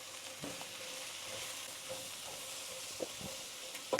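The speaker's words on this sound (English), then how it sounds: "Cook the onions." Onions fry in olive oil with turmeric, sweet paprika, salt and garam masala as a faint, even sizzle, broken by a few soft taps of a spatula, with no voices.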